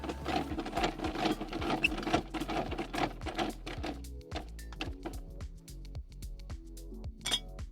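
Speed brace cranking down a stabiliser leg at a corner of an AUSRV XL15E MKII offroad caravan, producing a steady run of rapid metallic ratcheting clicks and clinks, close and fairly loud, slowing and breaking into separate clicks toward the end.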